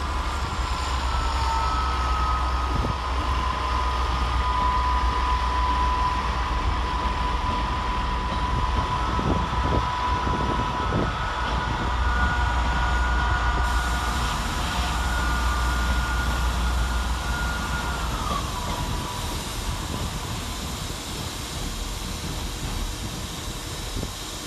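Class 158 diesel multiple units, 158846 and 158806 working together, pulling out of Sheffield station bound for Norwich, with a steady engine drone, a long tonal whine and a low rumble under constant platform ambience, no talk.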